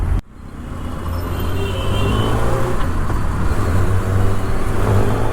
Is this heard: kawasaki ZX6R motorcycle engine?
yes